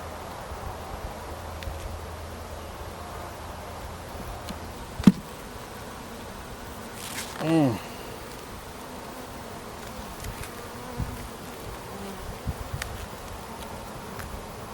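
Honeybees buzz faintly but steadily throughout a beehive inspection, with a louder bee passing close by midway and occasional small knocks and rustles of frames, no voices.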